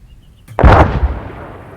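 A rocket explodes in the Arma 3 combat game during a squad operation, a sudden loud boom at about half a second with a broad rumbling burst that decays into a lingering low tail.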